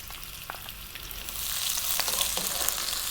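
Chopped onions hit hot spiced oil for a tofu coconut curry over high heat, a steady close sizzle and crackle that swells louder about halfway through, with no talking.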